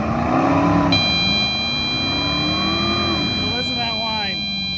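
A Dodge Charger Hellcat's supercharged engine revs and settles into a steady drone with a rising whine, close and loud, while people talk over it and a detector chirps in the cabin.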